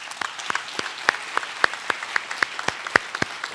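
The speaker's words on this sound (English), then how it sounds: "I just want to give them a round of applause" Sparse applause at a regenerative medicine symposium, a small audience clapping for the Roddenberry Foundation, with distinct individual claps at an uneven rhythm, fairly close and moderately loud.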